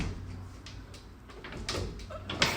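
A bedroom door moved during a home inspection, with a few soft scrapes and knocks that build to a sharper thud near the end, close by in a quiet room.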